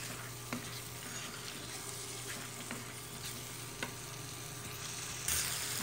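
Vegetables and spices, including cumin powder and garam masala, fry in a pan with a steady sizzle and occasional stirring clicks, close and continuous with no talking.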